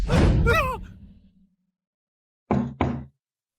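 Two quick knocks on a door, sharp and close, following a short sighing breath and then a stretch of silence.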